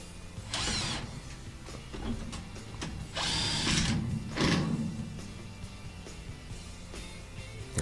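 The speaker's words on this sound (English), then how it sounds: "go ahead and install the 3 screws that you have removed earlier to be able to release the top" Screws are driven into the top panel of a Whirlpool top-load washer (WTW4930XW3), several short bursts of ratcheting whir and clicking with pauses between, close by and with no talk.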